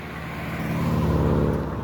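A car passes close by on a road, its engine and tyre rumble swelling steadily louder over a couple of seconds, with no voices.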